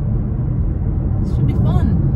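Low, steady road rumble and engine drone heard from inside a car driving through Hollywood, Florida, with a voice speaking briefly over it.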